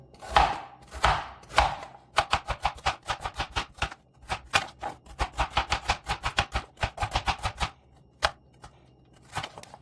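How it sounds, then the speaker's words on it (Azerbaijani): Carrots being sliced with a crinkle-cut shaped knife for a mixed vegetable pickle: a steady run of crisp, close knife strikes on a board, several loose blows first, then rapid even chopping with a few spaced cuts at the end. "Formalı bıçaqla doğrayıram."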